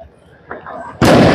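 A Supreme missile firework goes off during Diwali celebrations outdoors: brief faint voices and murmurs, then a sudden loud, harsh rushing burst that continues to the end.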